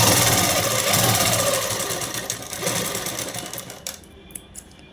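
Sewing machine stitching a top seam on a girl's blouse, a fast, loud mechanical whir of the running machine that stops near the end, leaving a few faint clicks.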